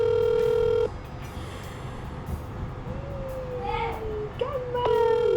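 An outgoing phone call rings while waiting for someone to answer, a steady electronic tone that cuts off, followed by faint household noise, a gliding pitch and another tone returning.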